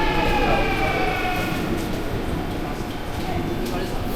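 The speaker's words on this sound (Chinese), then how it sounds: "你看，我们现在要坐火车的" A Busan subway train rumbles steadily up close, a loud continuous roar with a high whine above it.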